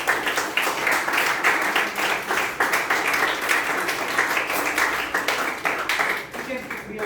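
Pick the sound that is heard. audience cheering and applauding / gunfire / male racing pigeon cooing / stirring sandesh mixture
audience cheering and applauding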